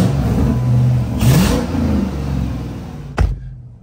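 A Dodge Charger R/T with its catalytic converter removed revs up close by, a deep throaty burst rising and easing back down, followed by a short sharp knock near the end.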